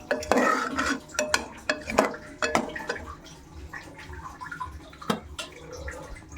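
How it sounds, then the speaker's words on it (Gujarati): Gram flour dumplings are mixed into a cooking vegetable curry of bottle gourd, with a spoon scraping and clanking against the pot in uneven bursts over wet, thick stirring sounds. "બેસનના ડુબી બનાવી દઈશું. નાખી દઈશું અંદર, પછી મિક્સ કરી દઈશું"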